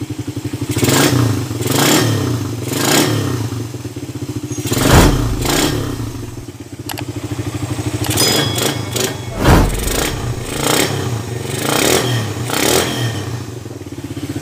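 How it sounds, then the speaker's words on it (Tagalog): A Rider 150 motorcycle engine idles loudly up close after a carburetor repair, chugging with a rapid steady rattle and swelling into repeated short throttle blips. "Okay, so ayos na yung motor ni Kabro, Rider 150."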